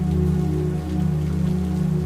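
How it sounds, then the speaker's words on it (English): Steady rain tapping on a roof, a dense even patter with a soft low background drone running underneath and no voices. "listening to the rain tapping on the roof"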